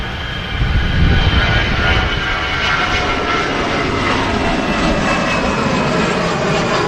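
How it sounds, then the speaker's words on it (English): A Lufthansa Airbus A319 rolls for takeoff at Manchester Airport, its jet roar loud and broad, swelling early then holding steady as the aircraft accelerates. "There's also a Lufthansa A319 rolling"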